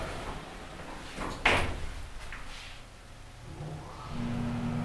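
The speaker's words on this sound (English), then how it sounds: "incredible motor start" Vintage Otis Lexan elevator motor starting: after a sharp thud, a low electric hum with a steady buzz kicks in and holds at moderate loudness near the end.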